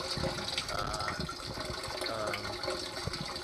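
Water pours and gushes steadily through a homemade fish tank filter built from a Kirkland mixed nuts bottle and shipping foam, a continuous close splashing flow.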